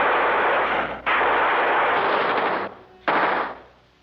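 Bursts of machine gun fire staged for a movie gunfight, loud and dense, with two sharp breaks between sustained volleys before trailing off.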